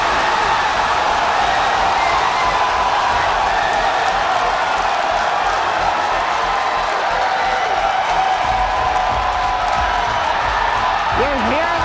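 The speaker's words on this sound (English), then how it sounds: "You're hearing the cheering" Dense crowd cheering during a SpaceX Starship launch, a steady, loud wash of voices and applause sustained throughout, with faint broadcast commentary tones underneath.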